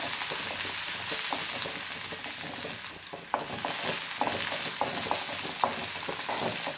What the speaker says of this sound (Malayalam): ഉള്ളി നന്നായിട്ടൊന്ന് ഫ്രൈ ആയിട്ട് വരട്ടെ.